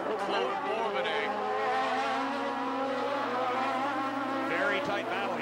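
Toyota Atlantic race car at a 1993 street race, a loud high-revving engine drone held steadily as the car drifts, with a commentator talking over it.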